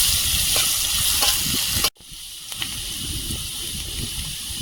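Crushed garlic frying in plenty of oil in a pan, a bright continuous sizzle that cuts out briefly midway and then resumes more quietly with light stirring.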